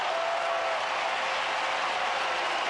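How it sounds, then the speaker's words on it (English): A baseball stadium crowd cheers for the Astros during a 2005 playoff game: a steady, loud roar of many voices holds without a break and with no commentary over it. "They cheer for Ausmus and their Astros"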